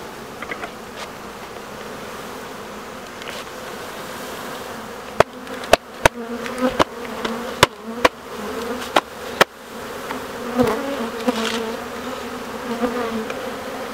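A dense, steady hum of many honeybees buzzing close by as a bee package is shaken into a hive, broken midway by a series of sharp knocks and clicks.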